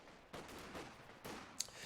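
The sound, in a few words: machine gun fire in a video game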